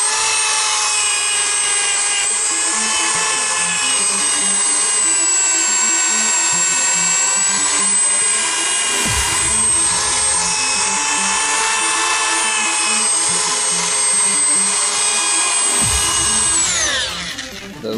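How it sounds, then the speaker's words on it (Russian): Power polisher buffing the clouded headlights of a Daewoo Matiz, a loud steady high-pitched whine that holds for about seventeen seconds, with two brief lower thumps along the way, then winds down at the end. "Сейчас пополируем, покажем готовый результат."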